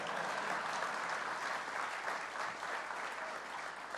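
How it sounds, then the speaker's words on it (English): A crowd at an event with Governor Hochul in Buffalo breaks into steady, even applause, dense clapping holding at one level from start to finish with no voices over it. "Well, you can clap on that."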